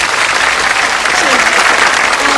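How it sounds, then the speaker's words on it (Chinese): Dense, loud audience applause fills a concert hall at a tribute show, a continuous wash of clapping from a large crowd, close and sustained throughout without a break. "我们再次用掌声来欢迎一下"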